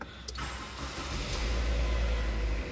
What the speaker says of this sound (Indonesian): start mobil ini guys.